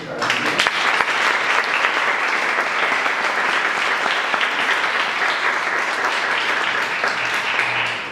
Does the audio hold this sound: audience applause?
yes